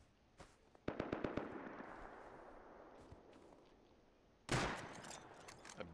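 Shots from a bolt-action rifle ring out in a PvP video game: a single crack, then a rapid cluster of sharp reports. After a quieter lull, another loud close blast lands with a dense burst and fading tail.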